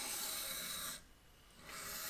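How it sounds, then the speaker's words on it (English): A kitchen knife is drawn across a wet whetstone in a short, faint abrasive rub that breaks off briefly and then resumes. "You don't need to spend an hour and a half over here sharpening your knife."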